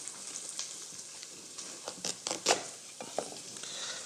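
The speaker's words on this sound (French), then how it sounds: "je mélange mes oignons qui sont en train de fondre" Onions softening in a hot pan while being stirred, a constant soft sizzle with scattered scraping and clicking from the spoon against the pan, close by.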